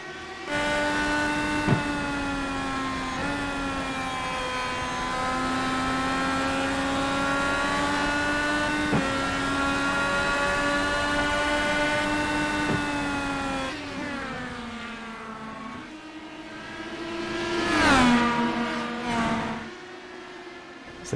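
Indy-style race cars in the Area 51 series run side by side, a steady high engine whine that holds pitch for long stretches, then shifts and swells as they drop and climb through gears out of a turn.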